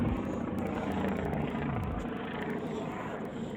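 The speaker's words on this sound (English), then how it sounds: "Oh, there's a heli. There's a chopper." A helicopter passes overhead on a night of fireworks, its rotor producing a steady low thudding drone throughout with faint background noise.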